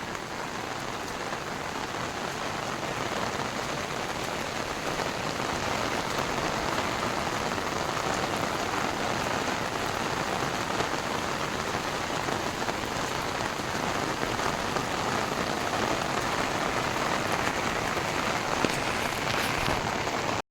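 Heavy monsoon rain pours steadily at Uparkot Fort in Junagadh, a dense, even hiss of drops striking surfaces that holds at one loud level for the whole stretch with no voices.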